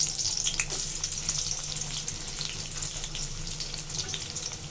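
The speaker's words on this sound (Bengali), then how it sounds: "পেঁয়াজটা একটু ভেজে নিব।" Onions frying in hot oil in a wok for a dried-fish and taro stolon curry give a continuous close sizzle with crackling spits throughout, with no talking.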